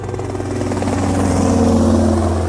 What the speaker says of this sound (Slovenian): Namesto njih zagledam helikopter.